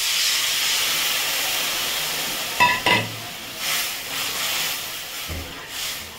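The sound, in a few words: mustard water poured into hot pan hissing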